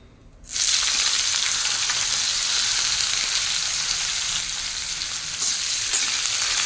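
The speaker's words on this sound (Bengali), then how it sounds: "এই তেলের মধ্যে এক এক করে সমস্ত সবজিগুলো ভেজে নেব প্রথমেই যেটা দেব উচ্ছে" Bitter gourd (uchhe) frying in hot oil in a home kitchen, an intense steady sizzle that bursts in after a quiet start and continues loud and close, with a faint stir or clatter near the end.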